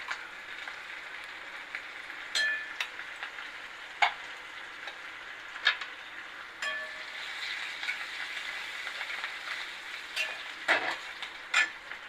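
Chicken pieces frying in a pan with fresh green chilli, giving a steady soft sizzle broken by scattered clinks and scrapes of a spoon stirring against the metal.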